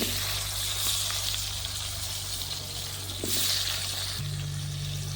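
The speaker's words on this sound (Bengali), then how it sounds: "ওই একই তেলে আলুগুলো ভেজে নেব" Potatoes frying in oil in a pan over a clay stove, a steady dense sizzle that hisses evenly throughout with no talking, a low hum running underneath.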